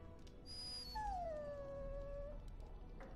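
A dog whines in Dragon Age Origins, a single drawn-out, falling whimper that tails off over a low, steady background.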